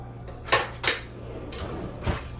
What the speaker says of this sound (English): Let me get a spoon.